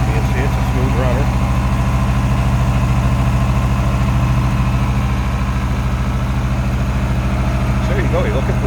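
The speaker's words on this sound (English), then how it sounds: "just what you'd expect a Volkswagen Beetle to sound like." A 1968 Volkswagen Beetle's air-cooled engine idles steadily nearby, an even low putter with a constant rhythmic chug holding for the whole stretch, no revving.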